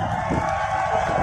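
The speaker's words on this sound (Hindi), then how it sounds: "एक बार जोरदार तालियां सीएम" A crowd at a festival stage event in Haldwani cheers and applauds for the chief minister, a dense continuous roar of clapping and whoops with a loud sustained wash of voices and music throughout.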